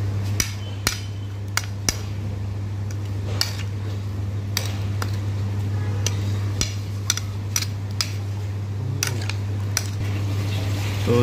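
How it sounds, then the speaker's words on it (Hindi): Watermelon salad with cumin powder and mint leaves being mixed in a bowl: irregular utensil clinks and taps against the bowl, close and fairly clear over a steady low hum, with no talking. "अब इन सब चीज़ को एक साथ मिक्स करेंगे"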